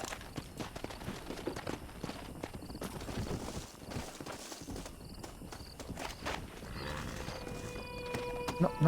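Horse hooves clop in a steady rhythm in the video game Red Dead Redemption 2, a quiet series of repeated footfalls over faint outdoor ambience with brief tonal game sounds near the end.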